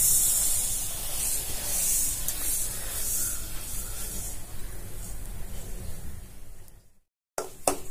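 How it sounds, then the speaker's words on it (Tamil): Semolina (rava) roasts in hot oil in a kadai with a constant close hiss and sizzle that fades out, followed by a couple of faint clinks. "ஆயில் ஊத்திக்கிறோம், ரவையை போட்டு வறுத்துப்போம்"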